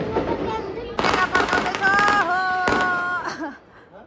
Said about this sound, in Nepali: कहाँ गयो रकेट उपर पो जानु पर्छ